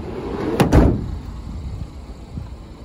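Side loading door of a Renault Trafic LWB van, a sharp double thud of the door sliding shut with a short rumble trailing off, heard close and alone.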